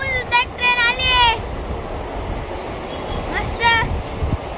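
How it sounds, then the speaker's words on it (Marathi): A passenger train rolls past on the tracks with a continuous rumbling drone, broken twice by short bright tonal bursts near the start and again later. "तर गाईज मागून सुद्धा एक ट्रेन आली आहे"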